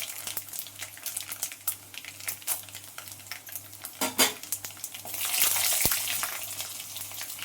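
Mustard seeds and chana dal fry in hot oil for hotel-style rava uppittu, giving a quiet crackling sizzle with scattered pops, stirring scrapes and a brief louder hiss near the end.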